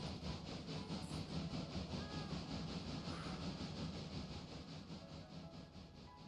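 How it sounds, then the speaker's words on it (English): Distant rumble and steady rail clatter of a train rolling past in the Railroader railway game, a continuous low drone with faint rhythmic clicks. "Alright, so we got the train coming through."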